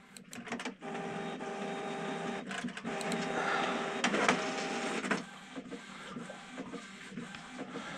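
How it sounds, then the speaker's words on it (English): An inkjet printer running a print job, its mechanism whirring steadily with sustained tonal motor hum, punctuated by clicks and carriage shuttles, then quieter mechanical shuffling as the page finishes feeding; close and alone with no talk. "Okay, we're printing."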